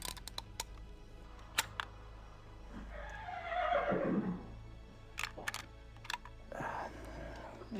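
A horse in the video game Gabriel Knight 2 gives a single long whinny in the middle, fairly quiet, with scattered clicks around it and no speech over it.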